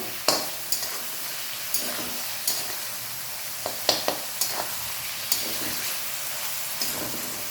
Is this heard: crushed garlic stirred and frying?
yes